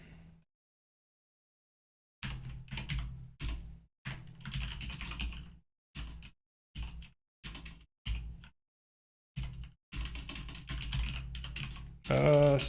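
Bursts of rapid typing on a computer keyboard, loud and close, clattering in irregular clusters separated by short pauses, with a steady run of keystrokes near the end.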